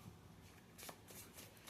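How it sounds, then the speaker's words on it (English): Brand new playing cards being shuffled, a soft continuous riffling patter with a few brighter flutters, close and quiet with no talk. "These are brand new. Brand new cards. That's why they're shuffling so nicely."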